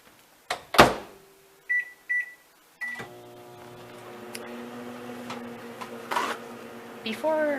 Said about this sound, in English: we are going to put it in the microwave for 1 minute.